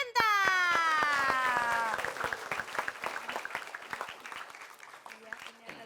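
Studio audience applause at an Indonesian comedy variety show, a dense wash of clapping that swells loud at the start and continues steadily under music and a host's voice.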